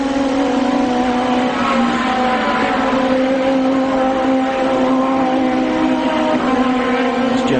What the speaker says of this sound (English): Jones coming out of Flowweave corner